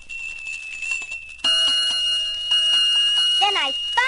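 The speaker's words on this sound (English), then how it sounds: "Then I rang my bell." A little fire engine's bell rings with a bright metallic tone, first faintly under speech and then loudly and sustained, ending with a quick warbling chirp.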